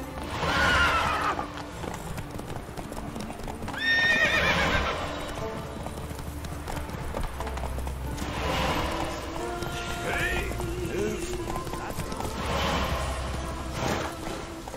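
Geralt's horse Roach gallops in The Witcher 3, steady clip-clop hoofbeats running throughout with a couple of loud whinnies near the start and again later, over game music and ambience.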